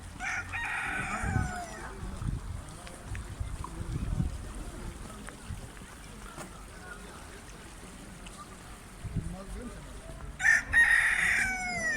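A rooster crows loudly nearby near the end, with a more distant crow earlier, over a steady outdoor background with some low voices at a market in Bozkır, Konya.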